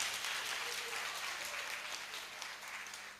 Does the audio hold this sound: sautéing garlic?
no